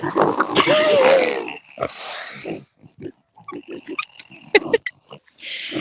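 Several pigs grunt and oink at close range, a loud drawn-out squeal followed by a run of short, choppy grunts with brief pauses between them.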